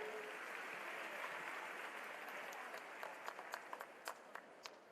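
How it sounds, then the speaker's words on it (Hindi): An audience at a political gathering claps steadily to welcome a guest, a dense, fairly quiet wash of applause that breaks into a few distinct, sharper claps toward the end. "जोरदार तालियों से आइए हम सहभागी बने इस स्वागत में"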